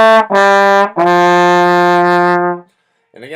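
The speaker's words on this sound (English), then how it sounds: "when you have a tenuto, you do retongue the note. You just make sure the notes are very long," Wind instrument sounding tenuto notes, each one retongued: a short note, a brief gap, then a long sustained tone held near and loud for about two seconds before stopping.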